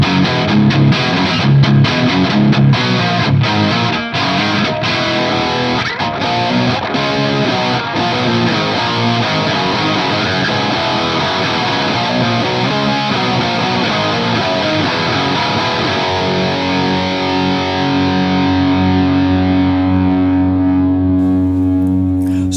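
An electric guitar played through a Line 6 Helix processor, with a heavily distorted, effects-laden tone. A long stretch of dense, sustained playing with choppy accents ends on a ringing held chord, loud and close with no voices.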